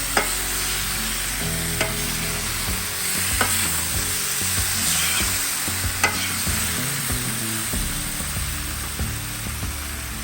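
Potatoes previously fried in oil sizzle steadily in a hot pan while a utensil scrapes and stirs, with occasional clinks against the pan.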